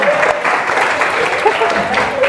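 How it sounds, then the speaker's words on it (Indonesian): Classmates burst into loud, close applause for a student in a school classroom, a brief dense flurry of clapping with a few voices mixed in. "aplaus untuk Abiyakta"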